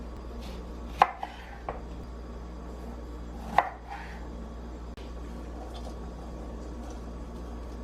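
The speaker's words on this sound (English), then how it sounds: "I'm going to cut and juice those" Half a lemon and a whole lime are cut with a kitchen knife on a board. A few distinct, fairly close chops and taps come spaced apart over a low steady hum, with no talking.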